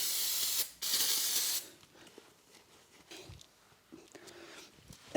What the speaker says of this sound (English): And I like to use the brake cleaner after that